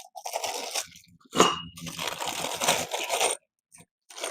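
Small metal nuts, bolts and slotted screws for a 48-inch black home office desk are handled up close, with bursts of clinking and rattling broken by short pauses.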